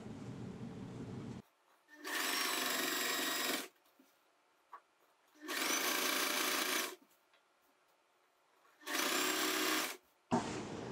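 An electric sewing machine stitches along the side slit edge of a churidar in three steady bursts of rapid whirring, each about two seconds long, loud and close with short quiet pauses between.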